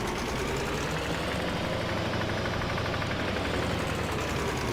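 A farm tractor in Farming Simulator 25 drives steadily, its engine giving a constant, dense rumble at even loudness with no pauses.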